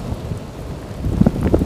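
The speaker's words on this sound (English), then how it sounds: "Ah! Rain." Steady rain patters outdoors on the Isle of Scalpay in Scotland's Outer Hebrides, with rushing wind buffeting the microphone, growing a little louder toward the end.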